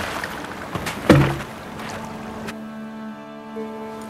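A small boat glides across water in Velen in The Witcher 3: Wild Hunt, with a soft wash of water and wind, a brief louder splash, then gentle music taking over.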